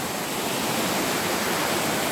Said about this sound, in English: Got the water rushing towards us.